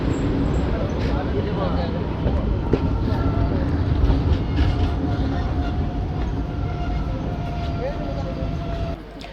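Malda-Howrah Intercity Express running, a steady loud rumble with faint rail clatter and a brief tonal squeal, continuous throughout with speech mixed in.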